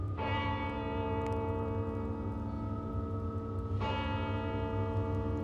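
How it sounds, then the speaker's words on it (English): A neighboring clock chimes two, two resonant bell strikes about three and a half seconds apart, each ringing out with a long sustained decay over a low background hum. "I remember hearing the neighboring clock chime 2."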